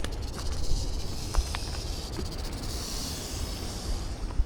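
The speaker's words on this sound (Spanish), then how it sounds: "Hay una serpiente cascabel justo ahí." Rattlesnake rattling nearby in the California sierra canyon, a steady dry buzzing hiss that runs continuously over outdoor ambience with faint insect chirps.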